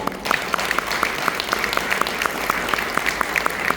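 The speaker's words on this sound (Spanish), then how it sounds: "Un aplauso para el Señor." A crowd claps steadily and evenly, a sustained round of applause from a room full of people at a charismatic church gathering.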